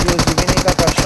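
Rapid automatic gunfire rattles in a battle royale video game, a loud, steady burst of close shots repeating about every tenth of a second.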